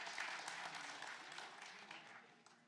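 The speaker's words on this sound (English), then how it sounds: "give up those claps" Audience applause fills a convention panel room at PAX West 2025, a broad steady burst of clapping from the crowd that stays fairly even and slowly thins toward the end.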